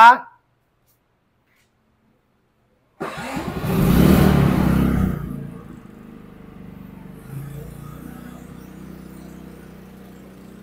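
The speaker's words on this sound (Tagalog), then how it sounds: "Pag pinindot po natin to, andar po yung ating generator." A silent-type generator on a farm starts with a burst of engine noise after a brief silence, then settles into a low, steady running hum, fairly quiet and close.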